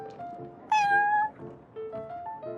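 A cat called Prince in the Genshin Impact video game meows in a few short calls, one loud drawn-out meow in the middle and softer chirps around it, clear and close.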